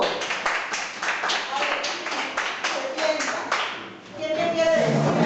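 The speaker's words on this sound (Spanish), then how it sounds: "A ver, un aplauso." Children in a rural school classroom clap in a burst of quick, close, fairly loud handclaps that thin out, then voices talk and chatter as the clapping fades.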